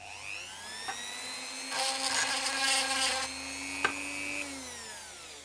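A high-pitched rotary tool sanding a plastic toy whines steadily, rising and falling in pitch, with a short burst of harsher grinding in the middle; close and moderately loud, no talking.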